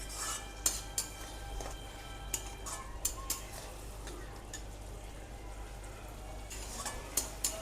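Spices for chole masala sautéed and stirred in a pan: a low, steady sizzle with scattered spoon scrapes and clinks against the metal.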